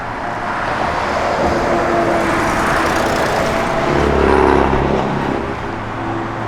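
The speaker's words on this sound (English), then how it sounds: "Great sounding Flowmaster exhaust system on it." A 1967 Chevrolet Camaro RS with a Flowmaster exhaust rumbles steadily at close range, with a deeper swell of throaty exhaust midway through before settling back.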